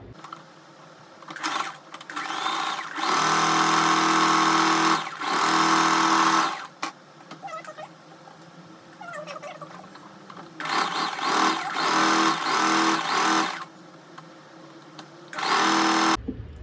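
A sewing machine stitches the sides of a deep-neck blouse in several bursts of steady whirring, each lasting one to three seconds, with quiet gaps between runs, close and clear.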